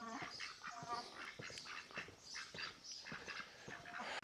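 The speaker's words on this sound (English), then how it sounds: "the ducks came over to me" Farm ducks quack repeatedly and insistently, wanting to be fed; their calls come close and fairly loud over a busy outdoor background.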